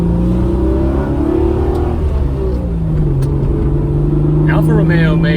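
A 1991 Alfa Romeo SZ with a 3-liter V6 runs loud and steady as a close, continuous engine drone with shifting pitch, while someone talks over it.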